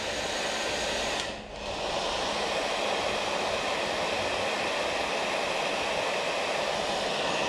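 A heat gun blows continuously while heating and shrinking monokote covering on an RC airplane, a steady whooshing roar that dips briefly once and then holds constant.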